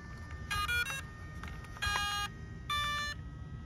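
Electronic speed controller in a Tamiya Grasshopper RC car beeping at switch-on, three short bursts of rapid electronic tones over a low background hum.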